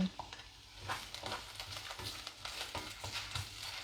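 Ginger and onion sizzling in a pan, giving a steady, faint frying crackle with scattered stirring scrapes throughout.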